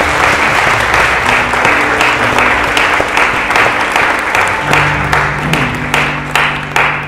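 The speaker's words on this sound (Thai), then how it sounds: "ให้เราปรบมือต้อนรับสมาชิกใหม่นะครับ" A church congregation bursts into sustained applause to welcome new members, dense and steady clapping filling the room for several seconds while a faint voice murmurs beneath.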